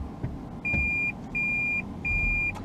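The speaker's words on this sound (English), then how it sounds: "And it's going to keep beeping and keep beeping until I back up to where I'm backing up to and put it in park" A 2014 Toyota Prius V gives its reverse-gear warning, three evenly spaced sustained electronic beeps with short gaps between them over a low, quiet cabin hum.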